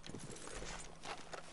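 Horse hooves clip-clop at a walking pace in the Red Dead Online video game, a short run of soft, fairly close steps over a steady background bed.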